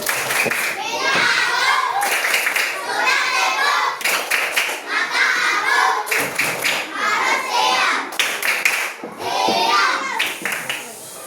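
Children in a classroom clap hands in bursts of rhythmic patterns during a clapping game, with pauses between rounds and a teacher's voice speaking in between.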